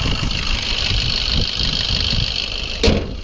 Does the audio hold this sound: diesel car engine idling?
yes